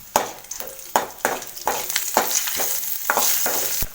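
Spices fry in hot oil for chana masala, sizzling and crackling as they are stirred, with repeated sharp scraping strokes in an irregular rhythm, close and fairly loud.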